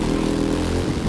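A motorcycle engine drones steadily at high revs during a race in The Crew 2, loud and continuous with a rough mechanical buzz, filling the whole short moment without any voice.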